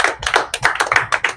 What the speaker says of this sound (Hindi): तो इसके लिए भी जोरदार ताली होना चाहिए।